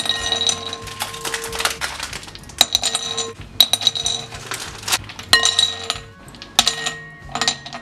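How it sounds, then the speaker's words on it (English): Ice cubes are dropped into a large bowl for chilling whipped cream, clattering and clinking sharply against the bowl in several bright, irregular bursts, close by and with no talk. "Add ice cubes."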